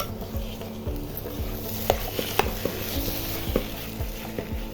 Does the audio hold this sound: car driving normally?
no